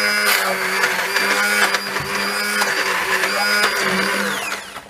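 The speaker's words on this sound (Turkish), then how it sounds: "Böyle blenderla iyice ezelim." Corn flour mixture for Black Sea style Abaza pastası being mashed smooth with a blender, a steady loud motor whir with a high tonal whine running through the whole stretch, ending in a slight fade.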